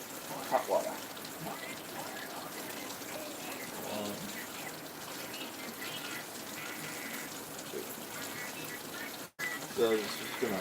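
Hot water runs steadily from a tap, a continuous hissing gush that carries through the whole stretch with a brief dropout near the end and faint talking in the background.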